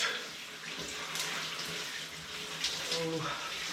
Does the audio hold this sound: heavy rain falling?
no